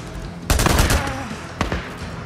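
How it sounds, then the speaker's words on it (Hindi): Gunfire from a sniper rifle during a camp fight in Days Gone: a loud burst of cracking shots, then a second sharp shot a moment later, all close and punchy. "अच्छा अच्छा, स्नाइपर वाले ने एक शॉट ले लिया ना"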